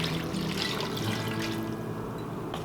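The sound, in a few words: pouring beef broth into potato soup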